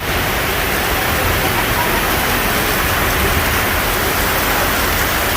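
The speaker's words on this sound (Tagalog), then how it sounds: "tingnan nyo, ang lakas ng ulan, grabe" Heavy typhoon rain pouring down steadily at a beach resort on Boracay, a dense, loud, unbroken roar of rainfall with no letup.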